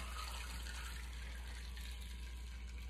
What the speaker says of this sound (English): pour this soda water on the top till it gets to the top